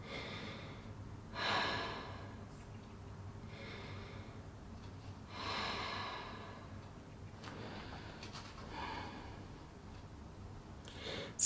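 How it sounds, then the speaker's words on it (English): Three slow, deep breaths taken in a Pilates child's pose on a mat: soft, airy inhales and exhales spaced several seconds apart, quiet and close, with no talking. "settle in here 3 deep breaths"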